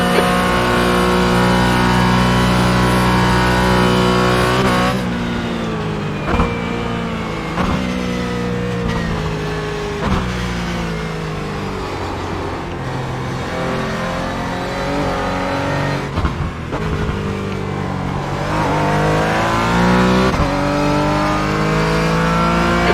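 Porsche Cayman GT4 engine in a sim racing video game at the Nürburgring, loud and continuous, revving up through the gears with shift dips and pitch sweeps across a long run at high speed, with no talking.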